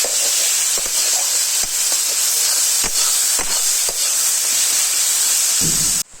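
Chicken pieces with garlic, onion, tomato, ginger and green chilli frying in a wok in a Bengali village kitchen, a steady loud sizzling hiss with faint scraping stirs recurring throughout.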